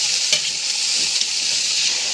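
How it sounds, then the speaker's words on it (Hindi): Grated carrots frying in ghee, a steady bright sizzle with soft stirring scrapes, close and continuous for the whole stretch, no voices. "1-2 मिनट के लिए फ्राई करूँगी गाजरों को घी में अच्छे से"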